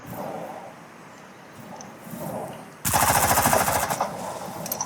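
Video game gunfire: a rapid burst of automatic shots breaks out partway through, loud and close, after quieter game background noise.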